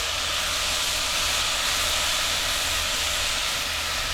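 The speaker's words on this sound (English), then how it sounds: "The steam's kind of starting to dissipate." A continuous, loud hiss of steam rising from a pan of Mexican rice holds steady throughout, with no breaks or voices.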